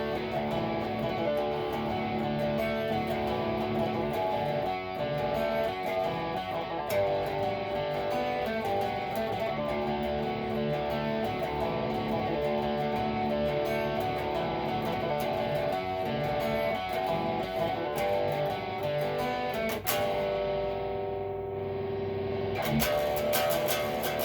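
An electric guitar in drop D, tuned a half step down, plays a heavily distorted riff through effects. It rings out continuously, stops abruptly near the end, then returns briefly, with no talking.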